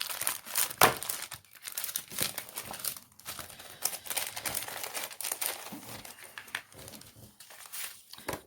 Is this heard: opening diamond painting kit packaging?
yes